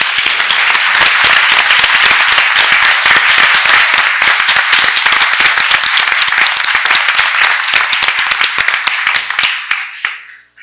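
A school board meeting audience gives a sustained round of applause for recognized students, faculty and staff, dense loud clapping filling the room for about ten seconds before tapering off abruptly at the end.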